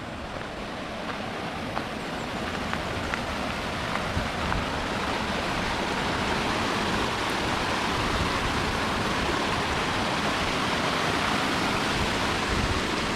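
A river flows steadily through a forest on a hiking route, producing a broad, even rush of water that stays loud and unbroken with no voices.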